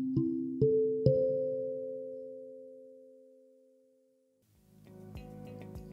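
Steel tongue drum in the Altus scale plays three struck notes from its right side, a major third, perfect fourth and minor third, each ringing tone sustaining and slowly fading, followed by a fainter cluster of further notes.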